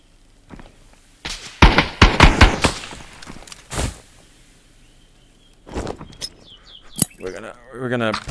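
Gunfire in the VR shooter Contractors, in its Exfil Zone mode: a cluster of sharp, rapid shots early on, then scattered single reports, with a player talking between and over the bursts.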